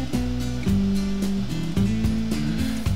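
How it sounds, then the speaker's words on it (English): A blender whirs steadily as it purees grated coconut with a cup of water, its motor tone stepping between a few pitches with brief dips, loud and close with no voices. "Then blend it until it is nice and smooth."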